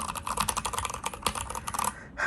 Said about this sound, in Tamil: இந்த மெக்கானிக்கல் கீபோர்ட் வந்து it's extremely good for typing long scripts